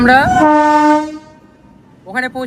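A train sounds its horn as it departs at dawn: a loud, close blast, a short pause, then a second honk begins.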